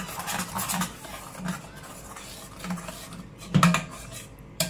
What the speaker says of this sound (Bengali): এটাকে নাড়তে থাকবো।